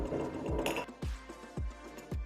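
A cast metal bolt with zigzag threads, made by lost-PLA casting and used as a desk toy, turning and clicking in a repeating rhythm: several sharp metallic clunks, each ringing briefly, close and clear.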